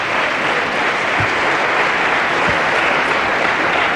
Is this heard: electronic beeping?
no